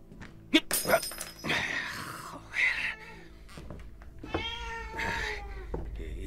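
A black cat meows amid a Spanish radio drama, its cries heard between shouting and talk, with clattering and a breaking sound around them.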